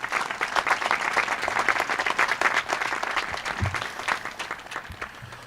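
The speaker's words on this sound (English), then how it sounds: "A round of applause for Mr. Kolev." A school auditorium crowd at an eighth grade promotion ceremony claps for a retiring staff member, producing a close, sustained burst of applause with individual hand claps audible throughout.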